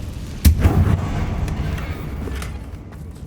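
A Confringo blasting spell cast in Hogwarts Legacy, a single sharp close explosion followed by a rumbling, fading burst of fiery debris.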